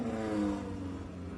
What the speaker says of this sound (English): You hear that Volkswagen powered motor?